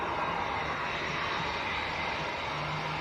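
A British Airways airliner at Manchester Airport gives a steady, loud broadband jet engine roar that holds evenly throughout, with no voices.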